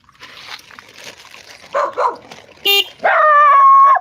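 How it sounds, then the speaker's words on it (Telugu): A dog gives a few short barks and yips, then a longer whining whimper, close and loud, with no talking. "మన దగ్గరేమో అదేంటి సిగ్గుపడే కుక్కుంది"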